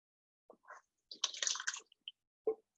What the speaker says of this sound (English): I'm pouring this whole can in, and that will make 35 ounces of tomatoes for me